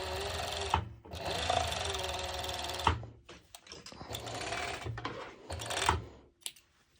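A serger overlocks the top seam of a cut-out pole dance top in bursts of dense, buzzing stitching, pausing briefly between runs before a final short burst; near and fairly loud, with no talk.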